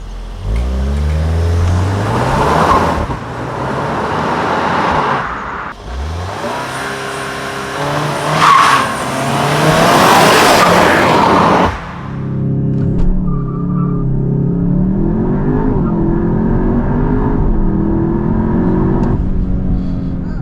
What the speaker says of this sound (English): that was lots of wheel spin